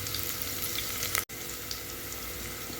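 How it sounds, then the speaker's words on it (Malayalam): Finely chopped small shallots and ginger sizzle and crackle in a hot pan while a wheat upma is cooked, a steady close frying hiss with one very short break. "ഇനി നമുക്ക് ഉള്ളി ചേർത്ത് കൊടുക്കാം."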